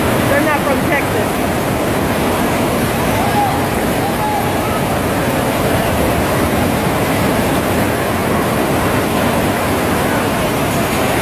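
Heavy rain and wind batter a circus tent in Texas, a loud, unbroken roar of rushing water and gusts that holds steady throughout with no pauses.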